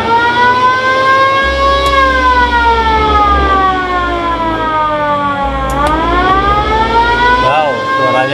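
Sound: siren of VW Kombi Bay Window ambulance

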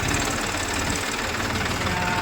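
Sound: tractor engine moving slowly over stony ground

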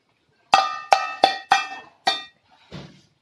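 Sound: child banging on metal utensils like drums

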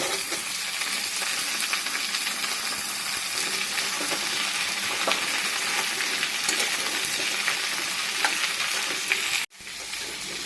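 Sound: frying tomato and cauliflower in pan

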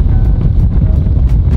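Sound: wind on golf course

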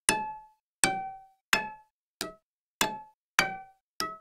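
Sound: double bass strings plucked below bridge

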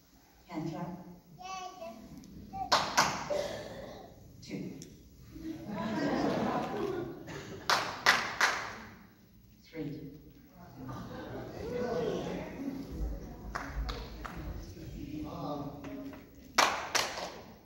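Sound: hand clap

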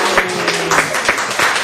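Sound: group applause

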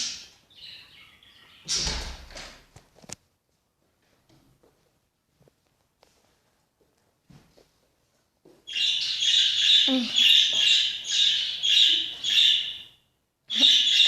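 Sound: birds chirping

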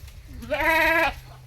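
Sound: Malabari goat bleating

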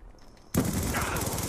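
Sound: gunfire in video game Black Ops 2

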